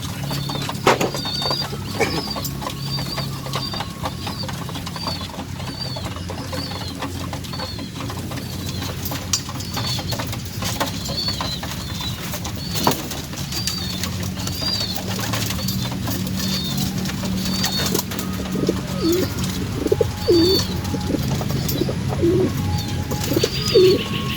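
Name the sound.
pigeons cooing and flapping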